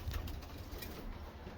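Soft, low cooing from racing homer pigeons murmurs faintly in the background over a hushed, steady ambience.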